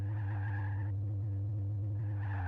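A car in a racing video game drives with a steady, loud engine drone, while tire squeal rises and fades across the clip, breaking off briefly in the middle.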